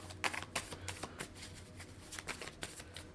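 Tarot cards are shuffled by hand, giving quiet, close riffling bursts and soft slaps in an uneven rhythm.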